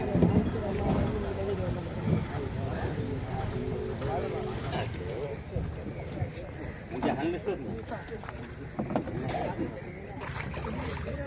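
Fishing boats arriving one by one at a harbour for the morning fish auction, a steady rumble of boat engines and water mixed with busy crowd noise and people talking throughout.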